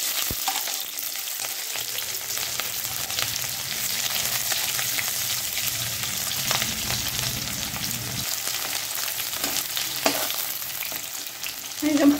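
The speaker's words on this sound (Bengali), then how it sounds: "পেঁয়াজটা লাল করে ভাজা নিয়েছি একটু" Chopped onion sizzles steadily in mustard oil in a kadai (wok) with a bay leaf and cumin, a continuous close frying hiss with occasional stirring clinks, loud and without talk.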